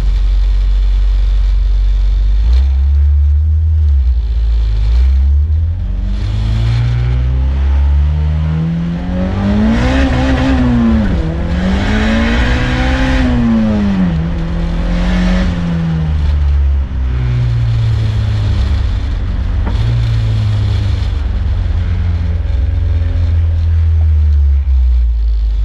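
A car with a freshly installed transmission drives continuously at close range, its engine note rising and falling through loud accelerating, revving runs and gear changes over roughly 25 seconds, with no talking.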